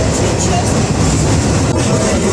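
An old, rusty tram with wooden seats riding through Omsk, a loud continuous rumble and rattle of the carriage with steady broadband noise throughout.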